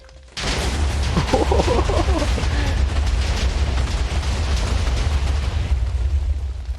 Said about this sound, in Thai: ต่อไปจะเป็นตัวของ TNT Firework Firework นี่ก็คือพวกพลุนะครับ